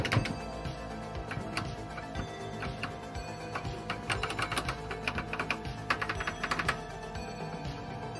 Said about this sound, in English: Too many beeps for the keyboard.